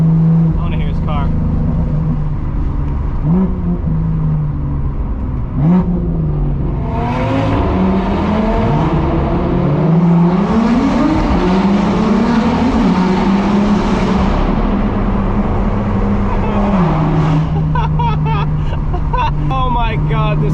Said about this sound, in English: Oh my god, this car is so loud.